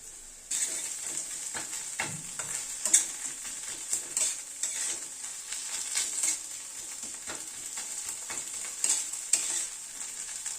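Ginger paste frying with onion, garlic and green chilli in a pan, a continuous bright sizzle broken by frequent stirring scrapes and taps of a spoon, close and unaccompanied by speech.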